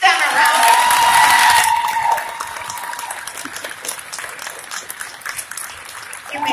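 A school honor band audience applauds middle school auditioners, with loud clapping and a few cheers at first over a sustained tone, then the applause thins to scattered, quieter claps.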